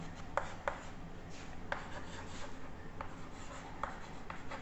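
Marker or chalk writing on a board during a math lecture on quadratic equations, with steady scratchy strokes and sharp taps at close range and no talking over them.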